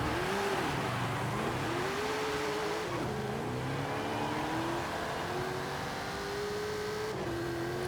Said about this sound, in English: There's just so much wheel spin.